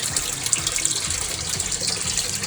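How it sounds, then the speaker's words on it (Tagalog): Water pouring and splashing steadily into a small backyard hydroponic setup, a continuous close hiss of running water with no talking over it. "para po makontrol natin yung flow ng tubig dito sa hydroponic"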